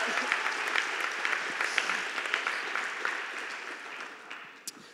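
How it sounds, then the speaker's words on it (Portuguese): A church congregation claps steadily throughout, a dense even patter of many hands with a few sharper individual claps, tapering slightly toward the end. "Será que você pode aplaudir a Jesus aí no teu lugar?"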